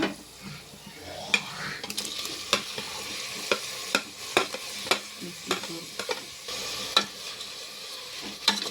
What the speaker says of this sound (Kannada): ಎಲ್ಲ ಫ್ರೈ ಆಗ್ತಿದೆ